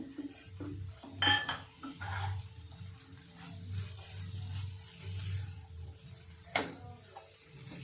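A spoon stirs a carrot mixture with powdered milk in a pan for carrot motichur laddu, giving quiet, irregular scraping and metallic clinks against the pan, with a few sharper knocks.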